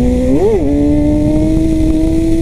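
A Suzuki GSX-R sport motorcycle in second gear revs briefly, its engine rising and dipping, then holds a steady loud high-rpm whine around 7000 rpm, close and continuous.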